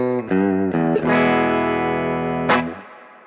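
Fender American Original 50s Telecaster electric guitar played through effects: a few quick struck chords, then a sustained ringing chord with a fresh strum near the end, loud and close, decaying away.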